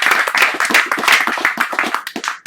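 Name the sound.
audience applause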